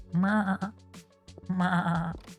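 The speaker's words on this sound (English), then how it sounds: "these little guys are little sheepies" Two drawn-out sheep bleats from a farm building in a strategy video game, close and clear with a short gap of quiet between them.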